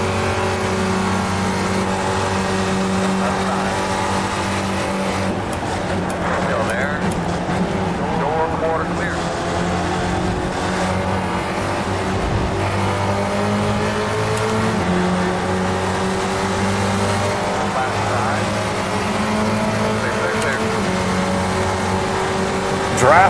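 A Ford Spec Racer race car engine in the iRacing game at Daytona drones loud and steady throughout, its pitch dipping and climbing with gear changes and throttle.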